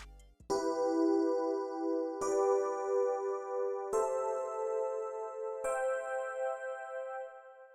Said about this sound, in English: You're gonna make it so that there's 3 in each, and that should be a triad.